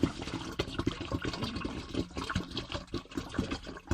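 Water splashes and gurgles steadily as it is poured out, with a continuous bubbly rush lasting the whole few seconds.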